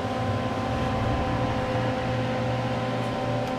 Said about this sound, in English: I think you can barely hear the motor because of that annoying fan.